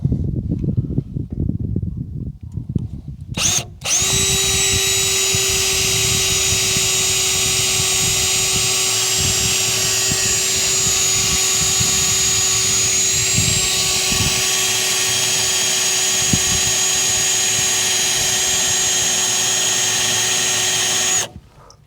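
A power drill with cutting oil cuts a hole in the metal belly box of a semi truck. After a brief start it settles into one long, steady, close whirring grind that lasts until it cuts off near the end.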